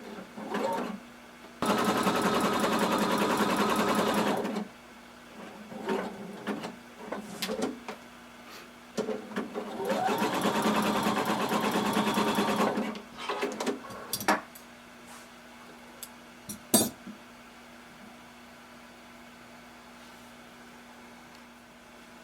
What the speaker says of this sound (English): using a long stitch and starting at the side, we're just going to sew this down